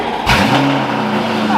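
A Mansory Lamborghini Urus Coupe cold-starts: a sharp starter burst gives way to a loud, rumbling high idle that holds steady and close for the rest of the moment.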